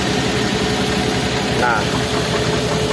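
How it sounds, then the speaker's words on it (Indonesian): A Daihatsu Gran Max engine idles roughly at low rpm, a loud, close, uneven rumble with a faint wavering beat, while someone talks over it. "nyala mesinnya aneh kan? Yo. RPM nya kecil sambil goyang-goyang, hunting gitu yo."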